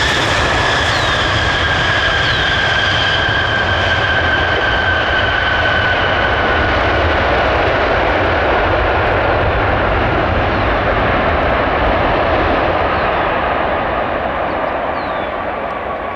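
A Boeing 737 jet airliner in oneworld livery passes near an airport, a loud continuous engine roar with a whining tone that slowly fades as it moves away, no talk.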